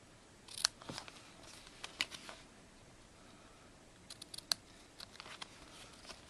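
Scissors snip ribbon tails on a handmade greeting card at a craft table, a few crisp cuts close by, spaced irregularly across a quiet background.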